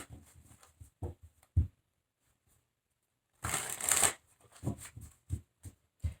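Tarot cards being shuffled by hand, a run of soft riffling and tapping bursts, then a pause, a longer dense riffle, and more short card taps, close and fairly quiet with no talking.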